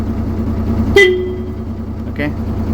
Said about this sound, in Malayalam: ഇവിടെ ഇതിൻ്റെ ഹോൺ പോർഷൻ വരുന്നുണ്ട്